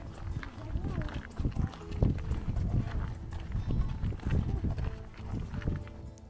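Horses at a nature reserve, used by staff to pull a carriage, clip-clop steadily on the ground at close range, their hoofbeats mixed with ambient outdoor noise.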